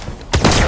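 A railgun fires in the Halo 5 video game, a single sudden burst of charged, crackling energy that snaps in loudly after a brief quieter build-up, close and alone.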